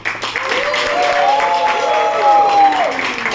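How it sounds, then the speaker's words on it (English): A Toastmasters milestone meeting audience applauds and cheers for the team, with steady clapping throughout and a sustained voice or whoop rising over it, fairly loud and close. "let's have a huge round of applause"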